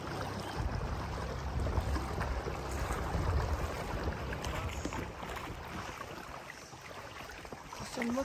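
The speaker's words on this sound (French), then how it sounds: "C'est le moteur." A low, steady rumble of a small boat engine runs throughout, mixed with wind and water noise, fairly close and constant.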